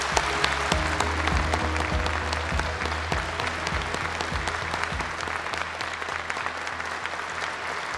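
A large audience claps steadily and loudly at the KF-21 prototype rollout at Korea Aerospace Industries, a dense sustained wave of applause with a low hum underneath.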